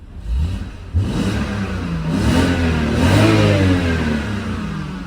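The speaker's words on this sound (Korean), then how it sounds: "엔진 소리 한번 들려드릴게요" A BMW 528i F10 with about 200,000 km on it revs up close by, the engine note climbing and falling in a smooth, sustained surge with rising harmonics and no talking over it.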